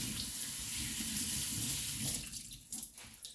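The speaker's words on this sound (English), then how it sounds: "Now we have to add some water." Water pours steadily into a deluxe cooking blender jar while cauliflower rice is being made, a continuous gushing rush that thins and breaks into splashes near the end.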